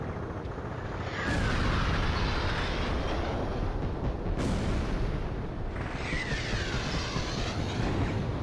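Gunfire rounds streaking past in the aerial combat game Ace Combat 5, a dense, continuous roar of rapid shots and rushing air, loud and close, surging twice in sharp bursts.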